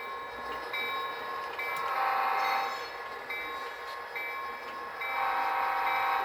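An HO scale model train horn blares in long sustained blasts, sounding twice with a short gap, over the steady rumble of a moving model train.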